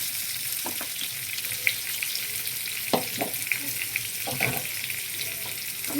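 Potatoes fry in hot oil in a pan, giving a steady close-up sizzle and crackle broken by a few sharp clinks and scrapes of stirring.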